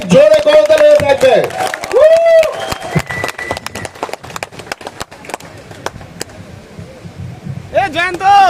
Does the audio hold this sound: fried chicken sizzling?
no